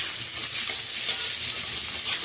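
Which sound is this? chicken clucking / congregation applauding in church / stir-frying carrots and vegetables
stir-frying carrots and vegetables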